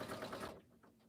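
A sewing machine runs a bean stitch across a quilt at a problem area: a dense, loud mechanical rattle for about half a second, then the stitching drops back to a softer run of repeated pulses.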